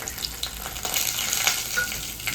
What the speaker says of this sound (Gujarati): આ બટેટા છે ને સરસ ફ્રાય કરી દેવાના તેલમાં એકદમ